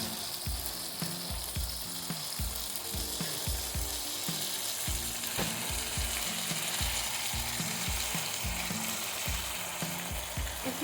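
A pepper grinder ratchets in quick repeated clicks over fried rice sizzling in a pan, a rhythmic grinding heard close up above the steady frying hiss, with no talking.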